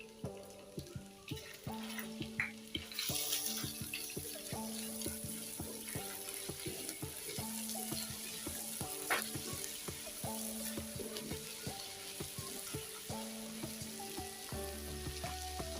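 Potatoes sizzle and fry in a pan with ginger and garlic paste, steady crackling and occasional stirring, fairly quiet, no one speaking.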